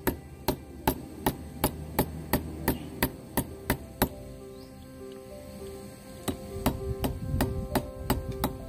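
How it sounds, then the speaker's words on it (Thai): Sharp metallic hammer blows ring out on rusty, seized pliers in a steady series, about a dozen evenly spaced strikes, then a short pause before another run of hits. "นำค้อนมาทุบก่อนเลยครับ"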